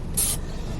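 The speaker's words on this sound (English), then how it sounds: "Vanilla bean spray from Bath and Body Works." A single short hiss of Bath and Body Works vanilla bean body spray, sharp and close, lasting under half a second.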